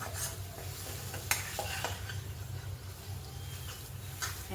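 Sweet potato slices stir-fried in a pan, turned over and over with a steady scraping and soft sizzle, a few sharper clinks of the utensil against the pan, close and moderately loud.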